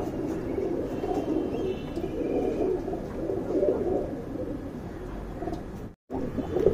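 Young tournament pigeons cooing in a loft, overlapping low throaty coos rolling steadily and close, with a brief dropout near the end.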